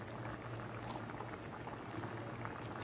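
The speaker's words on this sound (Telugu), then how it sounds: "బాయిల్ అవుతుంది చూసారా ఈ పాలలో" Green gram payasam simmers in milk with jaggery, a soft continuous bubbling and popping at a gentle boil, close by and quiet, with no talking.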